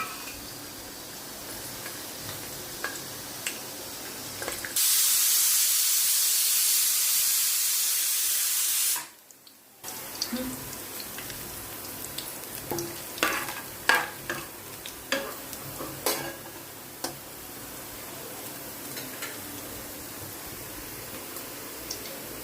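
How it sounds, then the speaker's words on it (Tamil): Oil hits a hot pan for homemade mutton biryani and erupts into a loud, broad sizzle lasting several seconds, then it cuts off abruptly and gives way to quieter crackling, spitting pops and scattered clinks. "ஸோ பேன் சூடாகிட்டே இருக்குல்ல, ஆயில் ஊற்ற போகிறோம்"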